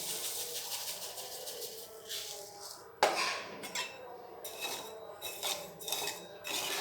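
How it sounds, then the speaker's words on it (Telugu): A spoon scrapes and clinks against a pan while sugar is stirred into bread halwa (double ka meetha), with a sharp knock partway through followed by repeated rhythmic strokes, fairly quiet and close. "ఈ పంచదార అంతా కూడా బాగా మిక్స్ అయ్యేటట్టు కొంచెం ఈ స్పూన్తో కలుపుతూ ఉండండి."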